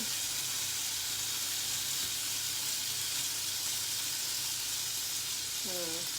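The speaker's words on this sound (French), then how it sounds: "tu suis la cuisson de ton bacon" Bacon fries in a pan with a steady, dense sizzle and crackle, close and continuous, while a voice speaks briefly near the end.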